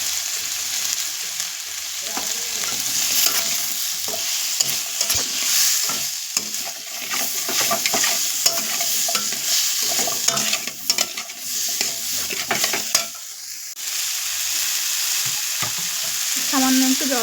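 Bitter gourd, potato and drumstick pieces frying with spices in a pan, a steady loud sizzle broken by repeated scraping and stirring strokes throughout, with no talking.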